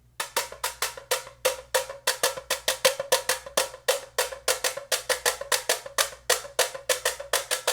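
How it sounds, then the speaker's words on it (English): A tambourine plays a steady samba groove alone, with quick, evenly spaced jingling hits in a tight repeating rhythm, close and bright. "If I play the tambourine, would sound almost like this."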